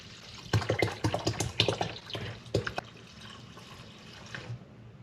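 Hot water poured into a KLR motorcycle gas tank during tank sealing: a quiet run of splashing and gurgling bursts over a few seconds, tapering off into faint trickling.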